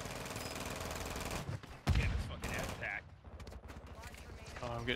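Rapid bursts of gunfire in an online shooter video game, one loud close burst in the middle among repeated shots, with a player's voice talking over the action.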